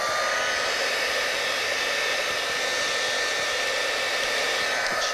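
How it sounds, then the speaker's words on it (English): A heat tool sets a freshly worked handmade birthday card, giving a steady, loud whoosh of hot blown air that runs without a break for about five seconds with no speech. "set with a heat tool"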